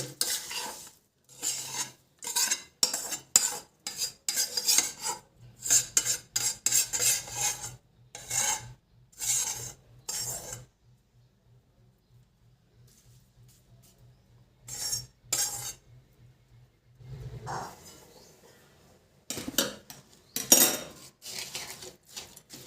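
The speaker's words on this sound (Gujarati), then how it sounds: "આ ચાસણીને આપણે હવે આ લોટમાં સારી રીતે મિક્સ કરી દેવાની છે" Roasted flour being stirred into sugar syrup for adadiya pak in a pan, heard as repeated close scraping and rasping strokes of a spoon against the vessel, coming in bursts with pauses and a faint low hum.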